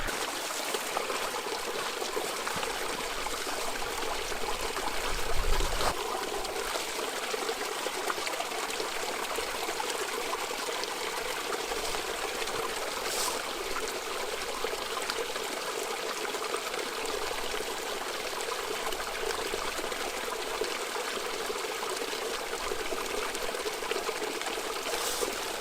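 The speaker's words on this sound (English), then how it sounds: "And now I'm going to filter some water and haul it back up to where I plan on camping." Water trickles and pours steadily outdoors in high country while being filtered into water bladders, a continuous close, quiet flow that runs without pause for the whole stretch.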